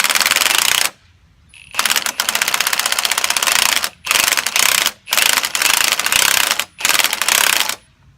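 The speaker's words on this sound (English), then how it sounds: "I can see that the threads are stripping on this tool. You heard it give that little sound" A spring compressor tool works a coil spring on a third-gen Camaro control arm as its threads strip, a loud, harsh ratcheting grind in long bursts broken by short pauses, close up with no talk.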